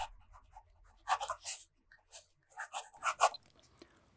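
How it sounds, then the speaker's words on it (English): A fountain pen with a fine nib writing on the paper of a FieldNotes reporter's notebook, soft close scratchy strokes in short bursts with pauses between words, faint and intimate with no voices. "The next writing sample is done in a FieldNotes reporter's notebook."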